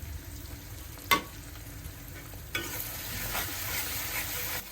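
Ginger-garlic paste with ground spices, salt, turmeric, chili, coriander, cumin and garam masala, sautéed in a pan: a faint, steady sizzle broken by a couple of sharp scraping stir clicks.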